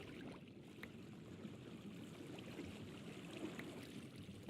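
Steady, faint rushing of flowing river water in the ScratchCraft video game, a continuous low wash with no talk over it.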